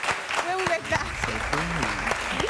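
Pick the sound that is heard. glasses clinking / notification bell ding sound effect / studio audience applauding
studio audience applauding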